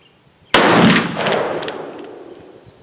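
A single loud black-powder pistol shot, flintlock or percussion, fired at an outdoor chronograph speed test: one sharp close crack followed by a long rolling echo that fades over two seconds.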